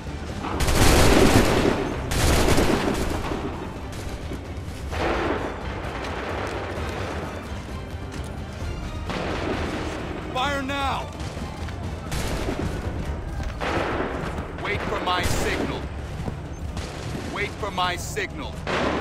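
Musket volleys in the video game Assassin's Creed 3 during the Lexington and Concord battle, repeated loud booming bursts of massed gunfire with echoing crackle, interspersed with shouted commands over a dense battle din.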